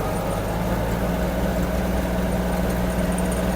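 Steady, loud drone of a Kubota GL-21 mini tractor engine at full throttle in eighth gear, a constant mechanical hum that stays even throughout with no talking.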